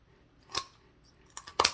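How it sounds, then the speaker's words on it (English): Scissors snip crisply through a Cornish hen: one cut, a short pause, then a quick double cut, close up in a quiet room. "Cut them with some scissors that cut all the way through to them and split them in half."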